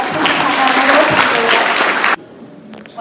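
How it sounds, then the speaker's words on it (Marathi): A group of people claps together in a dense burst of applause that runs for about two seconds, then stops abruptly, leaving quiet room tone. "सर्वांनी टाळ्या वाजवा"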